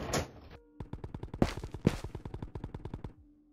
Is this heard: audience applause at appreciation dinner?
no